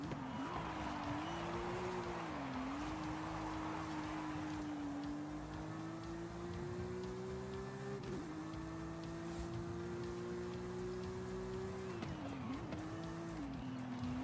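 A car driven in a racing video game, its engine droning steadily with rising and falling pitch through gear changes, running continuously on its own.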